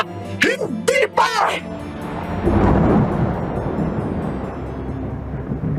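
A long rolling rumble of thunder swells after a lightning flash amid a storm, building to a loud broad roar and slowly fading, preceded by short strained vocal sounds from a person.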